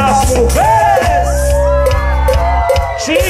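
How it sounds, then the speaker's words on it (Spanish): Women at a wedding party shout and whoop together over loud live music, a dense sustained crowd of high cries with rising and falling voices close to the mic. "Y que se escuche el grito de las mujeres."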